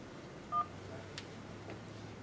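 A short, faint telephone keypad beep sounds once over a quiet line hiss, followed by soft clicks, as an automated call prompt asks to press 1.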